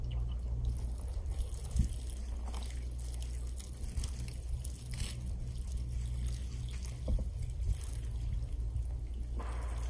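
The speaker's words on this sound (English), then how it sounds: "I'm just going to give it some water." Water is poured over small pots of freshly sown borage seeds in potting mix, a faint soft trickle and patter under a low background hum.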